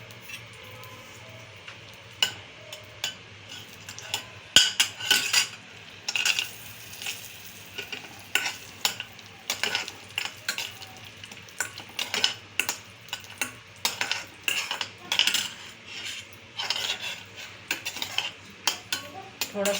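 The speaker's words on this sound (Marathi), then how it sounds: "पहिल्यांदा आपण काजू थोडे तळून घेऊया." Cashew pieces fry in a spoonful of ghee in a pan while a spoon stirs them, giving irregular clinks and scrapes of metal on the pan over a faint, steady sizzle, close by and with no voices.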